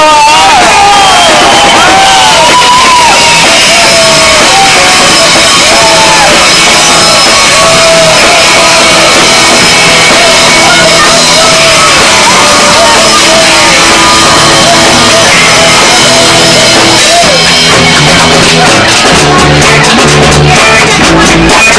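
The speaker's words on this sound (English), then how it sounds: "Make some noise for Mr. Nigel Bull!" Loud crowd at a rock gig cheers, whoops and shouts for guitarist Nigel Bull, a dense continuous roar of voices and noise sustained throughout over amplified sound.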